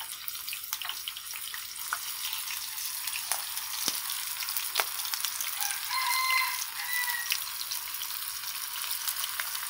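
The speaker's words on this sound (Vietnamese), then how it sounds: "Mình sẽ chiên đậu hũ để mà mình xào với" Tofu frying in a pan for a vegetarian stir-fried noodle dish, a steady broadband sizzle with scattered pops and crackles, loud and close; a rooster crows faintly in the background.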